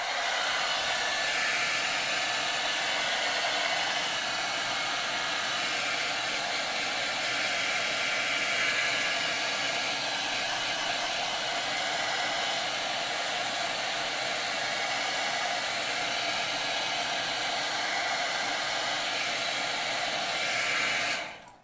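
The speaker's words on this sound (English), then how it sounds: "Hair dryer." A hair dryer blows steadily and loudly with a continuous whooshing roar that runs almost the whole time, then cuts off at the end.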